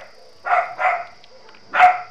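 A dog barks three times, close and fairly loud, with a steady high electronic tone from gameplay running underneath and no talking.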